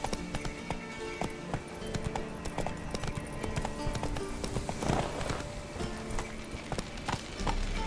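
Geralt's horse Roach galloping in The Witcher 3, a steady run of hoof clip-clops over game music and ambience, fairly busy throughout with a louder swell midway.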